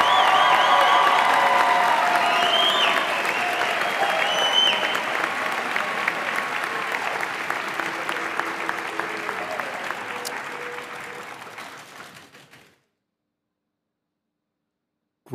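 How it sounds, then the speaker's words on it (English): A large commencement audience of family, friends and faculty applauds the graduating class of 2022 at Catawba College, loud sustained clapping with some cheering that gradually fades over about twelve seconds before cutting to silence. "let's give another round of applause to the class of 2022"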